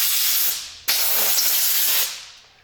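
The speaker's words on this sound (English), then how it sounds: "with compressed air, I make sure I blow anything away that's in the leather seat" Compressed air blasts from a nozzle into the cracks of a leather car seat, two loud close hissing bursts separated by a brief cutoff, with the second one trailing away.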